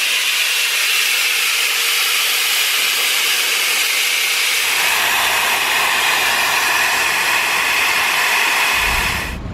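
Compressed air hisses steadily as it is let out of a Honda Civic EK hatchback's system, loud and continuous, shifting to a rougher, fuller rush midway before cutting off at the end.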